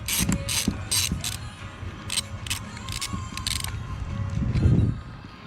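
Repeated ratcheting clicks come from a wrench loosening a bolt off a TBI throttle-body car fan, short bursts of clicking with pauses between strokes, close and moderately loud with some shop clatter.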